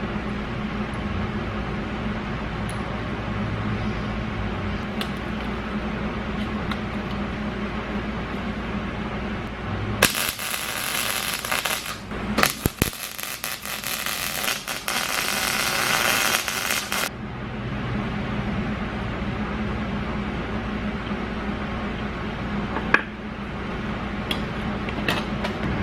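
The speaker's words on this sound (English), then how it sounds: "My plan is I'm going to weld a nut to one end." A nut being welded onto a bolt for the dual wheels of an International Cub Lo Boy 185 tractor, a harsh crackling burst of about seven seconds over a steady background hum.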